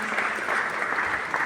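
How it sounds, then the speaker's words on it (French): A conference audience at Paris city hall applauds a guest, producing a steady, even wash of clapping at moderate volume that fills the whole moment with no pauses. "on peut l'applaudir, elle est avec nous"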